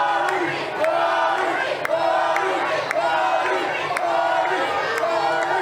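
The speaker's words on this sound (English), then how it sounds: "You hear his name being chanted by many of the acts." A wrestling crowd chants a wrestler's name, Kari, in a loud, rhythmic, repeating pulse about once per second, filling the arena while a commentator talks over it.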